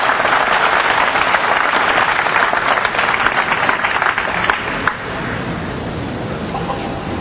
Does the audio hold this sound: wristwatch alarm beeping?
no